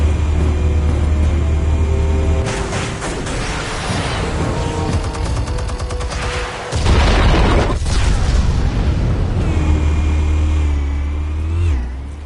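Explosives detonate in the Batman: The Telltale Series video game, loud booming blasts and rumbling bursts layered over a dense, roaring game soundtrack, with a heavy surge midway and a sustained low rumble.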